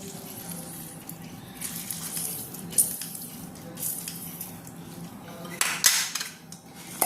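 Puffed-rice jhalmuri tossed with gondhoraj lemon juice is stirred in a bowl, giving a steady rustling scrape with light clinks of a spoon against the dish, close and moderately loud.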